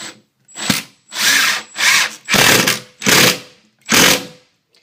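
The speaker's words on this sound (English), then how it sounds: "I'm going to screw it into place with 4 screws" A power drill drives four screws into a metal stair nosing track for laminate stairs, producing a run of loud whirring bursts, each lasting about half a second, separated by short pauses, close up with no talking.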